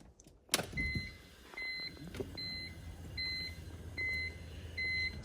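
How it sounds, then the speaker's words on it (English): A power window regulator motor on a BMW E46 convertible front window runs in a steady whirring hum after a click, with repeated short electronic beeps sounding at regular intervals on top. "original motor is back in the new window regulator"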